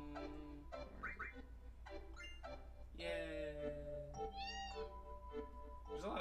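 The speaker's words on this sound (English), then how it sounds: "There's a lot of cats here." Several cats meow in Final Fantasy 7, overlapping and varied, some short and some drawn out, fairly clear against a low background hum.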